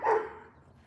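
A single dog barks once somewhere in a residential neighborhood, a short fairly faint yelp that fades quickly into quiet background.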